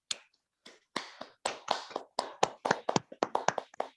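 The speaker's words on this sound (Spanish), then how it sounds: "nos vamos con un aplauso" Scattered audience applause at a health-team talk on prenatal diagnosis of trisomy 18, a few sparse claps building into a thin, uneven round of distinct near handclaps, with no talk.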